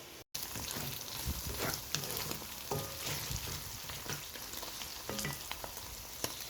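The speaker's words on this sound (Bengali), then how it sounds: "এখন মাংসের জন্য পেঁয়াজ বেজে নিচ্ছি পেঁয়াজ ভাজা হয়ে আসছে" Chopped onions fry in oil in a pan as the base for a mutton curry, giving a continuous soft crackling sizzle with a few sharp pops, fairly quiet and close, with no voices.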